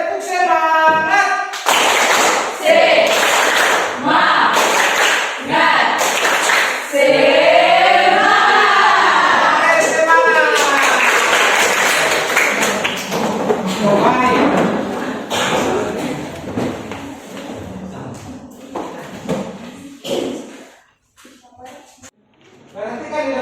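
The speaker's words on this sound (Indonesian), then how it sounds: "Tepuk semangat." A standing group of students in a classroom claps a rhythmic spirit clap, bursts of hand claps in patterned sequences mixed with chanting voices, loud and close, fading out near the end.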